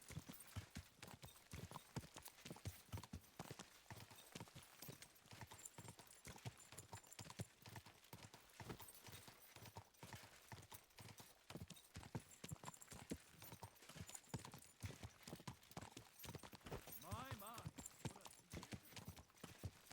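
Horse hooves clip-clop in a steady, brisk rhythm throughout, loud and close, in the medieval game Kingdom Come Deliverance 2, with speech from players or characters running over the hoofbeats.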